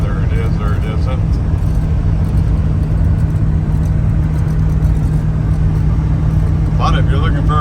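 A 1986 Dodge Ram D150 two-wheel-drive pickup drives along with a steady, continuous low engine and road drone, and faint voices can be heard briefly under the noise.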